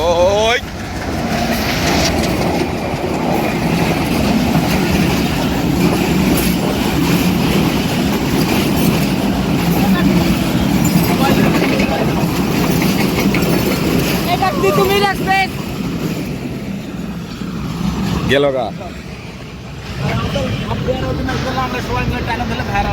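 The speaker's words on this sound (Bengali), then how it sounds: "আবার ট্রেন আসলো" A train rumbles past at a village market, a loud continuous roar and rattle lasting throughout, with voices talking over it and brief squealing tones near the end.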